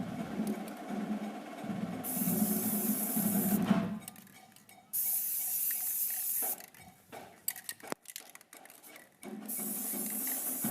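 NeverWet water-repellent coating sprayed from an aerosol can onto drum heads, heard as bursts of close hissing spray separated by short pauses and light handling clatter.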